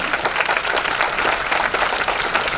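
An audience at a live Hindi poetry recital breaks into sustained, lively applause, many hands clapping densely and loudly throughout.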